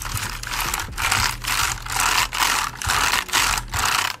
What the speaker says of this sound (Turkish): Şimdi elimi şöyle bir mekanik klavyenin üzerinden geçiriyorum.